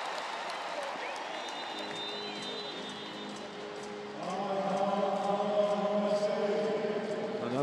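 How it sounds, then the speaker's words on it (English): A volleyball arena crowd at a USA versus Brazil 2017 World League match applauds and cheers, a broad steady roar that swells louder partway through, with a commentator's voice over it. "Lucarelli gets the crowd going."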